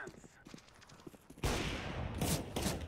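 Gunfire from CS:GO arrives as soft shots at first, then breaks into a loud, dense burst of rapid fire followed by more volleys, with a voice mixed faintly underneath.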